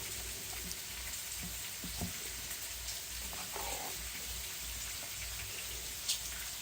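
Food frying on a home griddle gives a steady, close crackling sizzle with scattered pops throughout, and no one speaks.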